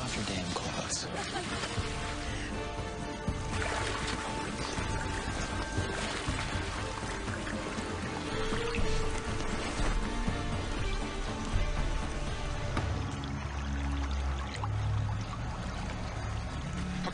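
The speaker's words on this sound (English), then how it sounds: "there's not supposed to be a river here" River water flows and splashes nearby in an outdoor forest setting, churning continuously with brief stirring sounds and faint voices in the background.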